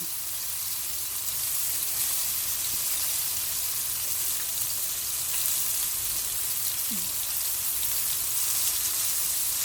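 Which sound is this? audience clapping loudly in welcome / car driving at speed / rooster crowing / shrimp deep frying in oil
shrimp deep frying in oil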